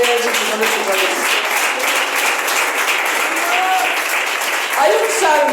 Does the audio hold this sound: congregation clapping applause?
yes